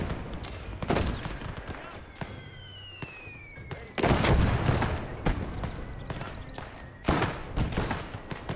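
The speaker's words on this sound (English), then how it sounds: "the 60mm mortar has given us some nice support" A 60mm mortar and gunfire in the WWII game Gates of Hell sound off as scattered booming thumps and sharp shot bursts. Louder blasts land near the start, middle and end, over a constant background battle din.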